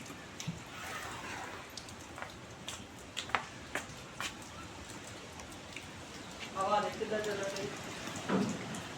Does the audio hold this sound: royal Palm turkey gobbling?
no